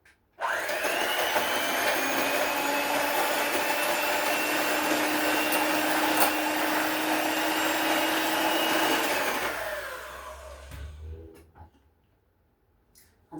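An electric mixer or beater whipping a two-ingredient homemade vanilla ice cream base runs at a loud, steady whir for about nine seconds, then winds down and stops, leaving a few soft handling clatters.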